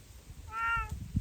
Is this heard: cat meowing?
yes